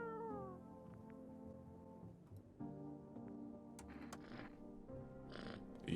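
A cat meows in a horror video game, one drawn-out, falling meow heard faintly and close, followed by softer mewing sounds over a quiet background with light ticking.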